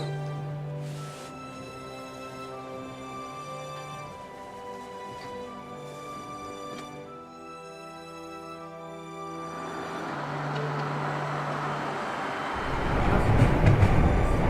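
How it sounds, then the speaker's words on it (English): A Trans-Siberian region passenger train from Irkutsk to Slyudyanka running on rails, humming steadily with tonal motor whine, growing louder and rougher toward the end. "We are now on a train to Sledyanka."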